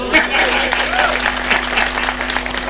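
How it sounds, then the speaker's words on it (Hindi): Audience applause at a Hindi comic poetry recital, a steady wash of clapping lasting throughout, moderately loud, with a faint steady hum beneath and some talk mixed in. "तालियां कमजोर हैं"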